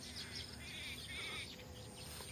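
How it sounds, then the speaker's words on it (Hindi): Birds chirping on a farm in the morning, light scattered tweets and calls over a low steady background hum, fairly distant and faint, no talk. "अपने घोंसलों से निकल चुके हैं और चहकने की आवाज़ आपको सुनाई दे रही होगी पक्षियों की।"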